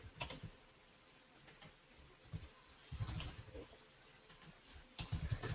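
Keys clatter on a computer keyboard as route names are typed into design software, coming in quiet, intermittent bursts of rapid keystrokes with short gaps between them and no talking.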